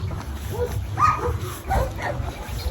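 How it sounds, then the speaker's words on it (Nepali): Street dog on a road in Romania giving short yelps and whimpering barks at close range, while a person talks over it. "ऊ बाटोमा नि आउँदैछ एउटा त्यो त लुते कुकुर नेपालको जस्तै"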